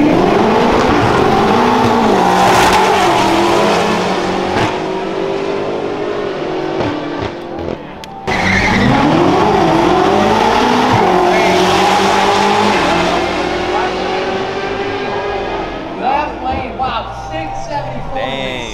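A BMW M5 and BMW M8 drag race on a short strip at a large BMW car event in Southern California, engines roaring loudly as they accelerate and shift, with tire squeal and crowd voices nearby.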